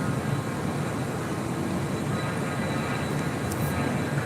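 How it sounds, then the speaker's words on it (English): United Airlines Boeing 757-200 airliner departing from LAX, a constant loud broadband engine roar that holds steady throughout, with no talking. "Next departure on the south side, United Airlines Flight 1017 heading to Newark in a 757-200"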